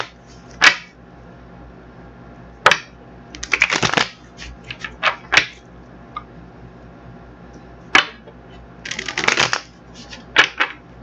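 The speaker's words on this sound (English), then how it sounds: "I'm going to get these cards shuffled up" Tarot cards are shuffled in short riffling bursts, several separate rustling flurries spaced apart with quiet gaps between, close and crisp.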